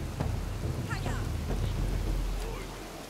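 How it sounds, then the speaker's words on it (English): Steady rain and low rumbling storm ambience from the Northgard strategy game fill the scene, a continuous wash with deeper swells, heard alone without talk. "it is rainy in this place"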